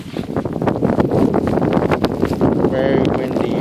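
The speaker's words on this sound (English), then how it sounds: "Very windy through this side." Strong wind roars steadily during the Juno winter snowstorm, a dense, continuous rush of gusting air buffeting the microphone for the whole stretch, with no clear break.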